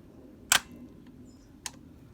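A motorcycle gear shifter clicks into gear with one sharp, close mechanical click, followed a second later by a fainter second tick against quiet background.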